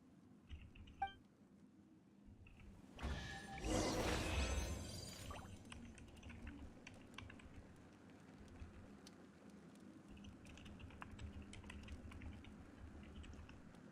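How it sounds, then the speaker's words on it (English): Computer keyboard typing during a Genshin Impact Archon Quest session, a steady run of faint, quick key clicks sitting low under soft background ambience, with a brief louder burst of noise early on. "I was typing."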